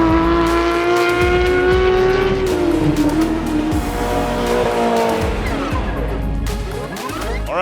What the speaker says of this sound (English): It's starting to get loud. Cars take it to the track.